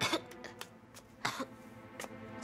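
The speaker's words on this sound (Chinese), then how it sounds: "怎么又咳嗽了？" A sick child in a hospital coughs several times in short bursts, with a few sharp, close coughs and softer throat-clearing between them in a quiet room.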